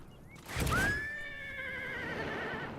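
A horse whinnies once in a game, a sharp rising cry that settles into a long, wavering neigh and fades, with faint hoof clops beneath.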